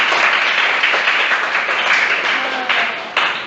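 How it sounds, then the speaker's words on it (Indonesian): A classroom of students applauds together at a teacher's urging, a dense, steady wash of clapping from many hands that holds for a few seconds. "Tepuk tangan semua"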